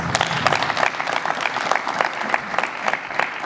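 Applause at an honour ceremony: a crowd claps steadily and densely throughout, loud and close, with no break in the sound.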